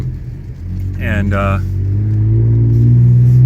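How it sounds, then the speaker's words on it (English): A 2015 Ford Police Interceptor sedan with the 3.5 EcoBoost engine accelerates with its windows down, a loud close engine drone rising steadily in pitch after a brief bit of talk. "let me roll down the windows so you can hear the motor"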